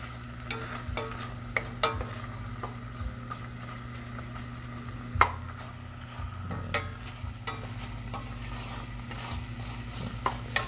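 Anchovies and garlic frying in oil in a pan, stirred with a steady low sizzle, light scraping and occasional sharp clinks of the utensil against the pan.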